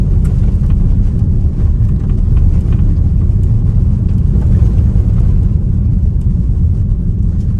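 A Tesla electric car rolls over a rocky surface, giving a steady, loud low rumble of tires and suspension that continues without a break from start to end.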